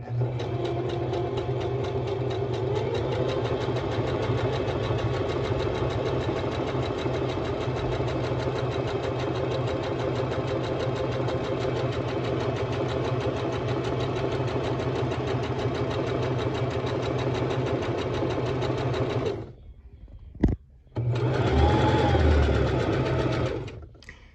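A sewing machine stitching along the edge of fabric to gather it, running in a fast, steady, even whir for about twenty seconds, then stopping briefly before a short final burst, close and loud.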